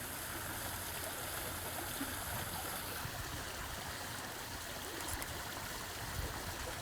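A flowing stream rushes steadily and continuously outdoors, a broad, even wash of water noise at moderate level with no talk.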